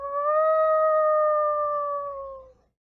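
A person's voice imitates a wolf call, one long sustained howl held steady for over two seconds before trailing off, clear and fairly loud against a quiet background.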